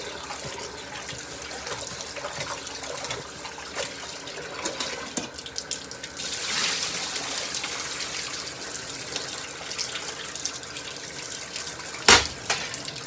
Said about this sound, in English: you clean the pork chops with water and vinegar